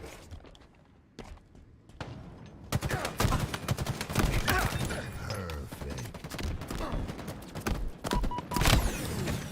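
Gunfire in the shooter Halo Infinite, a few sparse shots at first, then dense rapid firing and impacts that continue loud and near for most of the stretch, with little talk.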